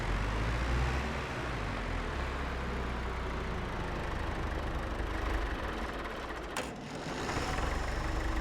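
A tractor engine in Farming Simulator 22 runs steadily after being repaired, a continuous low droning hum that stays loud and even, with a brief dip near the end.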